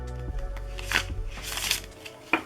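A deck of Muse tarot cards is shuffled close up, with several quick riffling bursts and soft card slaps in a quiet room.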